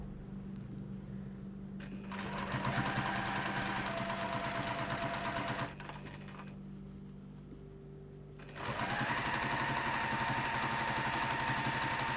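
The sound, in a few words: sewing machine stitching along a seam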